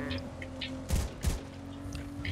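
Gunfire in a video game, two sharp loud shots about a third of a second apart over a steady tonal game hum, with faint background chatter.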